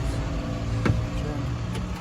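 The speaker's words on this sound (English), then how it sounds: "I'm going to go ahead and start the vehicle" Heard from inside the cab, a Class A tractor-trailer truck's diesel engine gives a steady low rumble, with a couple of brief mechanical clicks, and no one speaks.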